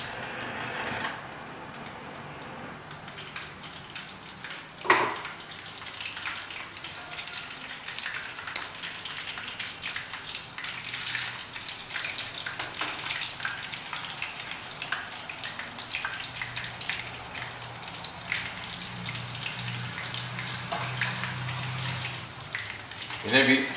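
Fish sizzles steadily in a pan on a gas stove, a continuous hiss of frying that runs under someone speaking in Hindi, with a few light clatters.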